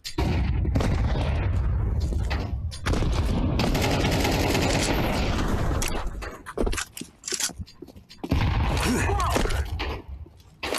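Grenade blasts and heavy bursts of gunfire in a tactical shooter video game, loud dense continuous firing for several seconds, then a quieter gap before more rapid shots resume, with faint voices now and then.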